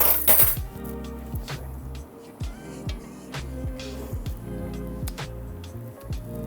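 A spoon clinks repeatedly against dishes and a pot while butternut squash soup is made, bright close taps in an uneven rhythm with occasional scraping, no talking.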